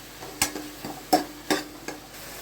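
Onions and tomatoes sautéing in a pan, a few distinct scraping stirs at irregular intervals over a light sizzle, close and moderately quiet.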